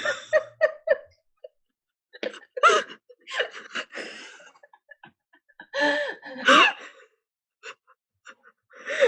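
A person sneezes in an indoor podcast setting, with short sharp bursts followed by laughter and chatter from others close to the microphone.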